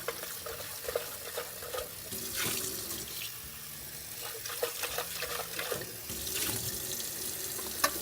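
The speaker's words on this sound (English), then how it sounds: "dump out any remaining descaling solution and give this tank a little rinse" Water runs from a sink faucet and splashes around inside an espresso machine's water tank, with sloshing and clinks as descaling solution is rinsed out, close and steady.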